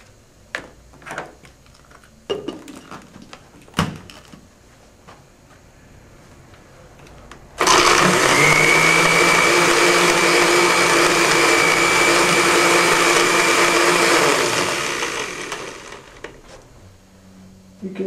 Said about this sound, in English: You can power a blender.